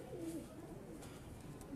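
Breeder pigeons give a couple of soft, low coos against a faint, noisy background, one early and another starting at the very end.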